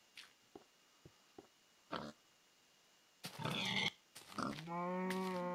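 A few faint clicks, then a cartoonish pig in the video game Tree of Life grunts and oinks in short bursts, ending in a long, tonal squeal.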